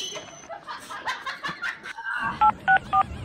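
Telephone being dialed, with three distinct keypad tones beeping in quick succession near the end, after a stretch of soft laughter and chuckling.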